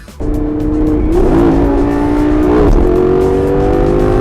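Car engine revving in a racing video game, a loud close engine note that climbs and shifts pitch through gear changes, steady and alone with no talk.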